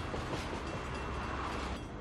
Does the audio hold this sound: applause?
no